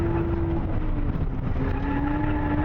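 A Nissan A31 Cefiro's engine drones loud and steady while drifting at Ebisu Higashi, with a sustained tone that drops in pitch then climbs again as it shifts down to second, heard from inside the car.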